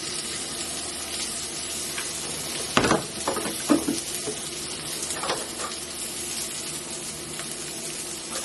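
Chicken and zucchini sizzle steadily in a hot pan on a lowered burner for Italian-style chicken, with a few louder clanks and stirring scrapes rising over the constant frying hiss.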